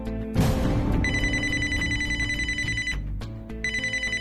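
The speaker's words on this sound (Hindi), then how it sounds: "प्लीज फोन अटेंड कीजिए। क्या पता किसी इन्वेस्टर का कॉल हो।" A telephone rings loud and close with a bright electronic ringtone for an incoming call, playing in repeated bursts with short gaps and no speech over it.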